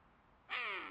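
A person imitates a king penguin call, a single bright, sustained cry that begins abruptly after a moment of near silence and holds steadily to the end.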